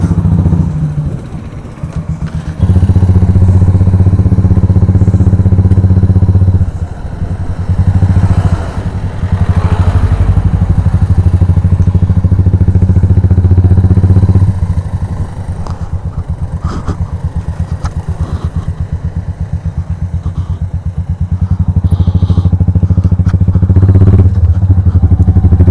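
A modified Royal Enfield Meteor 350 motorcycle rumbles loudly and steadily while being ridden, its deep engine thump continuous and close with occasional rattles and shifts in throttle.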